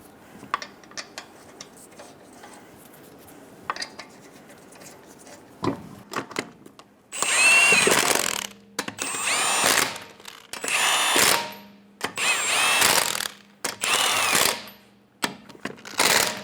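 Power tool spins lug nuts onto a 2003-2008 Honda Pilot rear wheel, several loud bursts of whirring, each lasting about a second or two, following a few quieter clicks and knocks.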